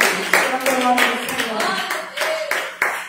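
A church congregation claps hands in praise to glorify God, sharp rhythmic claps landing every half second or so under a voice calling out loudly over them.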